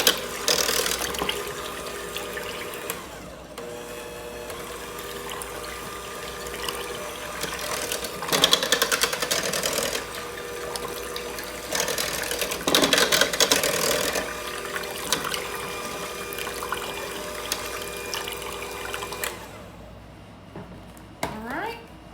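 A KitchenAid stand mixer churns ice cream ingredients with a steady mechanical whir and rattling gear noise that lasts throughout, with a few louder bumps, while a person talks at points over it.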